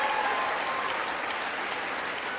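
Sustained applause from an audience during a State of the Union address, a steady dense wash of clapping throughout, heard at a distance without talk.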